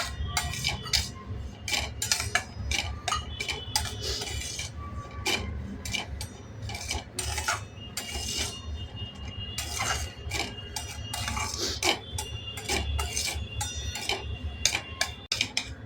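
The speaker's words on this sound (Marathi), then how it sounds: "गॅस अगदी मंद करून आपल्याला रवा भाजून घ्यायचा." Semolina (rava) dry-roasting over a very low gas flame for vegetable upma, a spoon or spatula scraping and clinking steadily against the pan in quick, irregular ticks with no talking.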